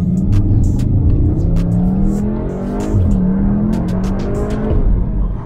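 A 310 hp Cupra Formentor accelerates hard from inside the cabin, engine rising in pitch through gear changes with a loud, steady growl and no talk.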